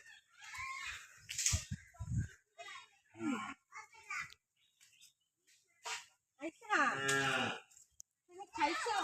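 A cow in a village gives several loud, drawn-out moos close by, separated by pauses in which people talk and someone speaks.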